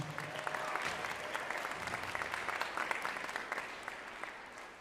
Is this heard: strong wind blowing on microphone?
no